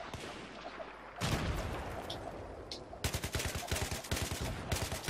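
Rapid automatic gunfire in Battlefield 3, a dense burst of sharp cracks after a quieter stretch, then a fast rhythmic string of close, loud shots continuing to the end.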